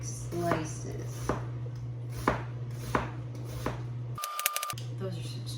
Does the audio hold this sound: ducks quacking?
no